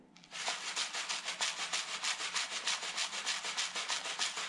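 Rapid rhythmic rattling of dry rice shaken back and forth in a box, bright and steady, about four shakes per second, alone.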